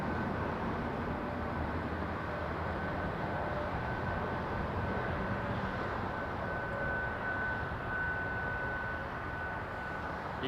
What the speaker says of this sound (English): You can hear the planes before they come around the corner.